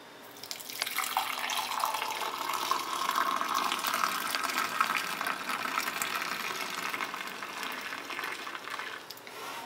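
Frothy masala chai latte is poured into a cup as a steady, soft stream of liquid with a bubbling splash that keeps going without a break, with no talking over it.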